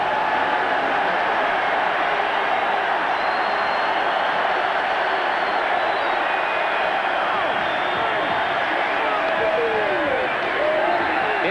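A huge stadium crowd roars continuously at the Orange Bowl as Notre Dame plays Miami in a 1989 college football game, a dense, sustained wall of cheering with no break.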